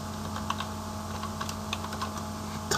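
Keys clatter steadily on a computer keyboard as code is typed into an Excel VBA form, close and fairly quiet, with irregular clicks over a faint steady hum and a louder knock at the very end.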